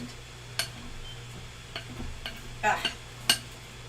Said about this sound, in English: You just mix this together.